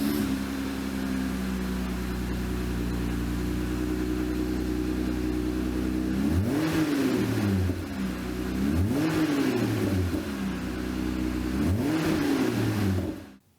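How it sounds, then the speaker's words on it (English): A 2018-2021 Jeep JL engine with an MBRP axle-back exhaust idles steadily and loudly, then revs three times in rising and falling bursts before cutting off. "Let's fire up the Jeep and see how it sounds."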